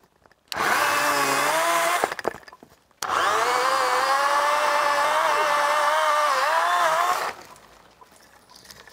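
A Kamikaze KVS7000P cordless telescopic pole saw cuts through a branch: a loud, close whining motor buzz in two bursts, a short run, a brief pause, then a longer steady cut that drops off sharply to quiet.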